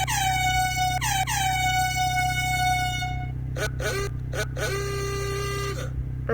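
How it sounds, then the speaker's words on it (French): Custom vehicle horns in the Brookhaven RP game blare in a series of loud, sustained harmonic honks, two long blasts followed by several shorter clipped toots, over a steady low background hum with no talking. "et vous pouvez avoir des klaxons différents."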